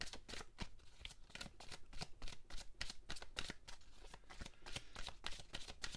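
Tarot cards are shuffled close up in a rapid, continuous riffle of crisp paper flicks and slaps. The sound is quiet and steady throughout, with no voice.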